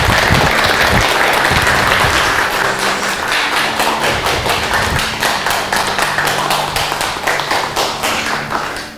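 A studio audience at a talk show applauds loudly and steadily, dense clapping from many hands that later settles into a rhythmic, unified beat and keeps going.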